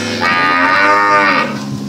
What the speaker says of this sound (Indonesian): Ini tempat sapi-sapi.